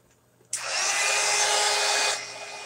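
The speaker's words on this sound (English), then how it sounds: "Hit it with the heat gun and dry up the blotchy spots." A heat gun blowing to dry blotchy spots on artwork switches on abruptly and roars as a steady, loud, hissing whoosh for about a second and a half, then cuts off, leaving quiet room tone.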